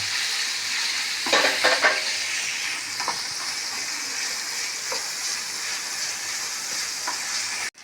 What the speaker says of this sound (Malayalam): നേരിയതായിട്ടൊന്ന് ഫ്രൈ ആവട്ടെ